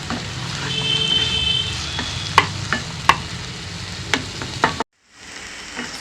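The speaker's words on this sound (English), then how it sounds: "So we'll continue to mix this and we'll continue to saute it for another" Onions, garlic and ginger sauté in a pan, giving a steady sizzle broken by sharp clacks of a spoon stirring, before the sound cuts off briefly and resumes more quietly.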